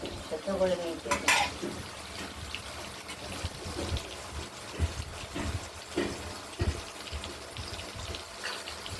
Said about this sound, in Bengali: এইভাবে ভাজতে হবে